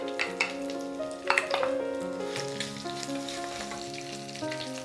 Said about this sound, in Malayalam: ഒരു 1/4 കപ്പ് ചെറിയ ഉള്ളി കുഞ്ഞായിട്ട് നുറുക്കിയത് ചേർത്ത് കൊടുക്കാം.